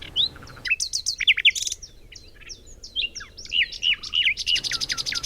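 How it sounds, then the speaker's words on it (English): Nightingale singing, a busy run of bright chirps, whistles and quick trills, clear and close, repeated in bursts with only brief pauses. "The real nightingale began to sing"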